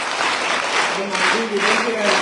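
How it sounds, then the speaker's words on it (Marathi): An audience at an organ donation awareness talk gives steady, dense applause throughout, with a voice speaking over it. "जोरदार आपण टाळ्या वाजवा"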